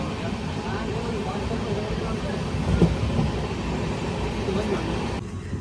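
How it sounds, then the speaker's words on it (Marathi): Steady rumble and rattle of a passenger train moving at high speed, heard from inside, a continuous roar with faint voices mixed in. "खूपच स्पीड घेतलाय आता ट्रेनने"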